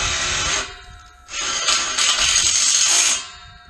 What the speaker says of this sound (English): So we'll pre-drill it and then run a self-tapping screw in there